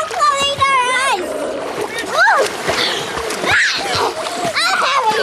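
Child splashing in a swimming pool, with choppy water splashes mixed with children's voices and excited talk throughout.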